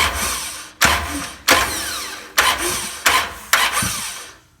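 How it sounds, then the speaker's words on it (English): Five repeated bursts of harsh mechanical clicking and whirring, each starting sharply and fading, as a ratchet is worked in strokes close by, turning the crankshaft of a 1967 Dodge Coronet engine by hand. "as I'm rotating the crankshaft around here manually with the ratchet"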